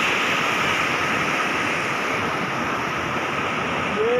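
Silveta waterfall in Bakalia, Karbi Anglong, Assam, roars with a steady, loud broadband rush of falling water, unbroken and close, with no talk over it.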